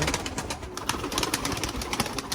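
Pigeons at a loft during a morning flight session, with soft, close cooing and fluttery bird sounds repeating over a busy outdoor background.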